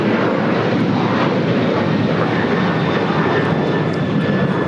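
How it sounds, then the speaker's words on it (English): A China Airlines Airbus A350-900 arriving at LAX from Taipei passes as a steady, dense jet roar with a faint high whine, loud and continuous throughout the short stretch. "This is China Airlines Flight 6 coming in from Taipei on the"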